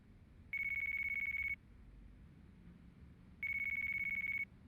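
A phone rings in the video game Yakuza 4, two identical electronic tones about a second long each with a pause between them, clear over a faint background hum.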